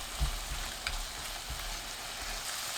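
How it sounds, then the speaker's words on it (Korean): Zucchini stir-frying in a pan, a continuous close sizzle with a few low bumps and a faint scrape of stirring, steady and unbroken throughout. "2분이 지나면 뚜껑 열고 30초 볶아줍니다."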